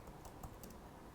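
Quiet keystrokes on a computer keyboard as a command is typed into a Python console, soft irregular clicks spread across a short moment with no talking.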